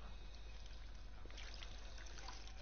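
Running sink water in the video game Fallout 4 makes a faint, steady trickle and pour with small splashy details, heard alone at low volume.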